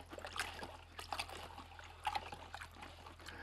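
Bucket of water being stirred after wood ash has been tipped in, giving faint continuous sloshing and trickling with small splashes, close and quiet with no voices.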